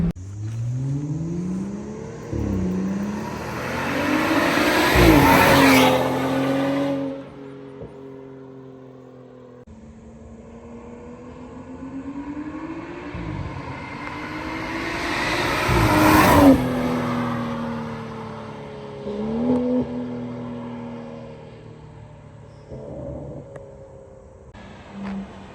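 A BMW F32 fitted with a Pure 750 turbo upgrade drives past twice, each pass swelling from a distance to a loud close rush with rising engine pitch and a turbo whir, then fading away.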